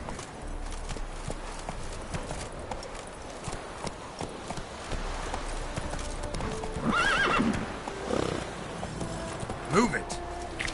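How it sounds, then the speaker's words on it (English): Geralt's horse in The Witcher video game gallops in a steady, close clip-clop of hooves and gives a loud whinny partway through, with a voice heard along with it. "Run, Roach"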